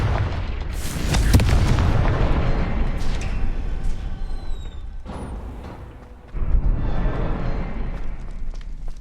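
Booming magical explosions from the Confringo spell in the Hogwarts Legacy video game, cast quickly in succession: heavy blasts with crackling debris that fade, then another burst near the end.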